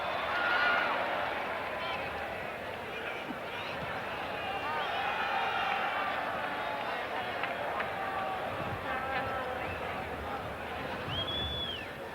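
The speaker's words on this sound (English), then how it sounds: "The crowd getting behind Morocco again." A football stadium crowd at a 1986 World Cup match between Poland and Morocco roars steadily behind Morocco, a dense, distant sustained cheer and whistling, with a commentator speaking over it.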